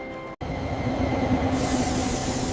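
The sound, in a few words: train at a station platform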